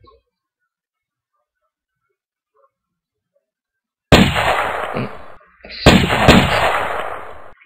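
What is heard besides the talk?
sniper rifle shots in a video game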